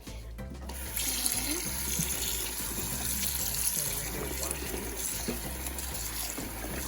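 Steady running water from a tap splashes continuously onto goat meat in a sink, a full, close rushing sound with faint clatter and no speech.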